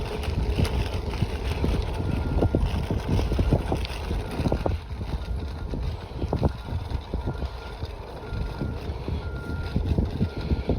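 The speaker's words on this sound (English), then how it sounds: "So the beeping you can hear is actually at that day" Repeated reversing beeps from a vehicle out in the open, heard over steady wind buffeting and broadband outdoor rumble; the beeps are moderate and recur irregularly.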